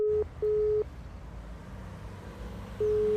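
Telephone ringback tones from a call trying to reach someone, steady beeps in a repeating pattern: two long pulses close together, a pause, then another starting near the end, over faint line hiss.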